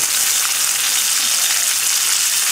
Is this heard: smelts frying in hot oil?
yes